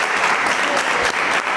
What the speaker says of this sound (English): Round of applause though.